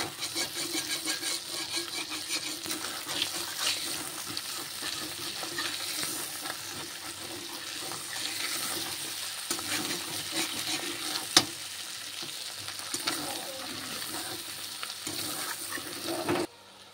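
Brinjal, slit green chillies and onion frying together in oil in a pan, a steady close sizzle with stirring scrapes throughout and no talk.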